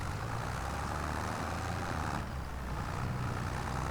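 A tractor driving in the Farming Simulator 25 video game, with a steady, loud, low engine drone that holds evenly throughout with no pauses.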